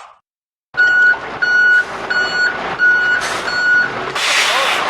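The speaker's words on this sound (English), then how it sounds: "It's either a garbage truck backing up or those evil robot birds have returned." Garbage truck reversing beeps in the video game You Don't Know Jack: a steady run of loud, evenly spaced electronic beeps with engine rumble beneath and an air-brake hiss near the end, no talk over it.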